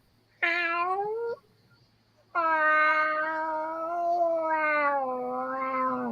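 A person imitates a cat with two drawn-out meows, the second long and wavering, close and loud with a short quiet gap between them and no other talk.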